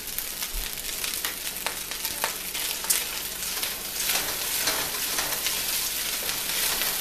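Frozen peas from a bag hit a hot pan of fried rice, setting off a strong, crackling sizzle with scattered pops and a few scrapes that carries on unbroken, no one talking.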